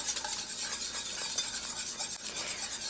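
Mac and cheese sauce kept at a low simmer in a pot on a turned-down burner, making a soft, even bubbling hiss with faint stirring, quiet and unbroken.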